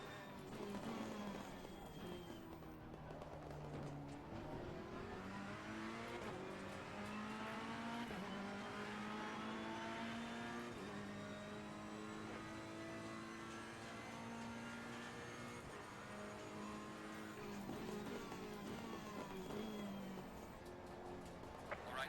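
Race car engine in Assetto Corsa Competizione driven near the corkscrew, continuous revving that climbs and drops through shifts, loud and close with a whining harmonic tone and no talk over it.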